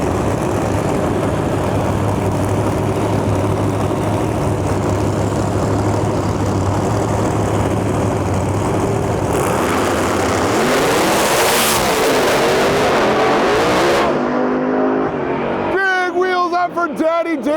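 Drag racing cars launch down the strip at a Lights Out 16 elimination round, a loud roaring engine rumble that swells into a rising rev, with a crowd and announcer talking over it.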